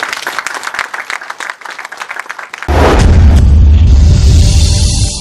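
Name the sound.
applause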